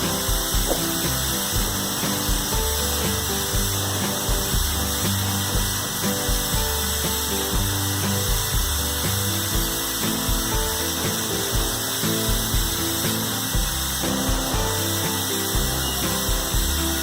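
A drill bores holes through a DIY 300-watt mono audio amplifier circuit board built for Toshiba 2SC5200 transistors, giving a steady mechanical whir with faint ratcheting texture that runs continuously and close by.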